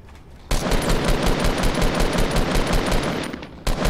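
Sustained automatic gunfire in an online shooter video game, one long rapid burst of rattling shots that starts abruptly, runs for about three seconds, then cuts off, with a brief second burst at the end.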